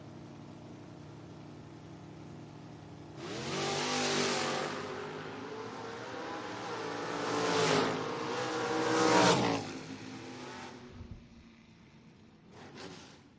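A Chevrolet Nova and a 1970 Camaro launch off the line in a footbrake drag race, engines roaring loud and close, then swelling again in hard bursts before fading, with another brief burst near the end.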